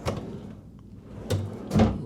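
A nightstand drawer in a New York City hotel room slides and knocks: a short clatter at the start, then two louder wooden bumps near the end, with quiet room tone between.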